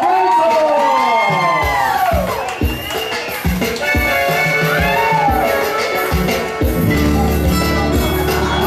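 Lively crowd at a Bingo Multicolor radio show event cheering, whooping and shouting continuously and loudly, with singing voices and music mixed in throughout.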